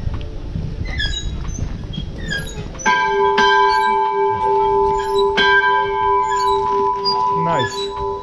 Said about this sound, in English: we can ring the bell here